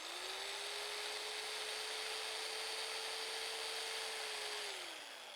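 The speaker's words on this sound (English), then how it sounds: "I don't live without this little jigsaw on the rig" Small jigsaw cutting wood while powered by an ALLPOWERS R1500 portable power station, a steady close motor whine with sawing rasp that runs for about four and a half seconds, then winds down.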